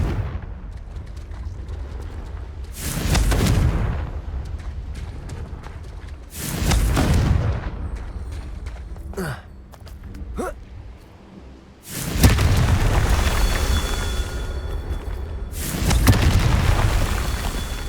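Confringo explosion spells in the game Hogwarts Legacy burst as several loud booms with rumbling tails, spaced a few seconds apart amid game effects.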